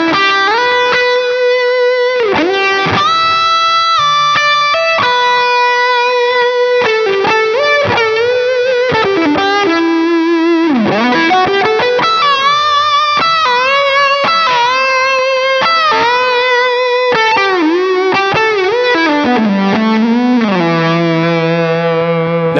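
Electric guitar through a JHS PG-14 distortion pedal with delay and TC Electronic Trinity reverb plays a sustained, singing lead line of bends and slides, loud and continuous, with echoing tails trailing each note.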